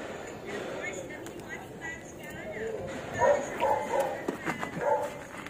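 Several dogs bark and yip near a demolished road at Santa Mesa Station heading toward PUP, a cluster of short barks rising over street noise with a person talking throughout.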